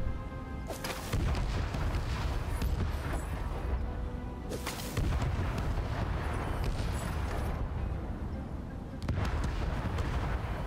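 A cannon in the video game Stories: The Path of Destinies Remastered shoots bursts of fire instead of cannonballs, giving repeated heavy booming blasts at intervals over a constant rumbling game background.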